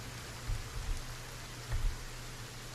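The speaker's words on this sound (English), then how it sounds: "So much rain." Steady rain hisses across the whole scene in the Kenshi game world, a constant dense wash with a few low thuds now and then.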